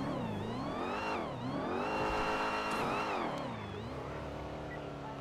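A Cadillac Escalade V in GTA RP revs its engine hard, the pitch sweeping up and down in repeated surges, loud and close with no talk over it.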